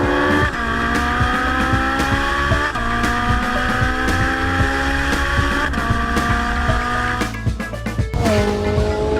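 A race car on a track in Las Vegas, its engine roaring loud and steady through a corner exit and building speed, with sharp pitch jumps at each upshift.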